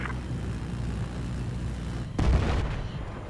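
A vehicle blows up after a jet attack in the Battlefield 4 video game, one sudden loud boom and roar rising out of a steady rumbling engine drone, then fading slowly.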